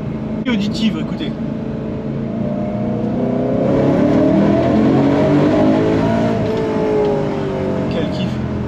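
Caterham race cars accelerating on a track, engines rising and revving loudly as they pass close by, with a sustained roar that swells and fades while people talk over it.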